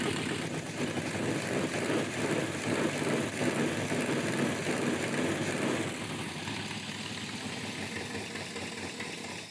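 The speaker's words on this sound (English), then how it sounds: "It's got a small exhaust leak over here." A GT car engine idles in a garage with a small exhaust header leak, giving a steady, close rumble with faint ticking and no voices over it.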